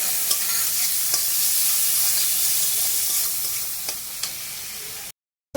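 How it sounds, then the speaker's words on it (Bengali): Tomato with salt frying in oil in a pan for a mustard-poppy fish curry: a steady close sizzle broken by scraping stirs, with no talk, before dropping abruptly to silence at the end. "দেখো তো দেখো টমেটোটা খুব সুন্দর ভাজা হয়ে গেছে দেখো তেল ছেড়ে দিয়েছে"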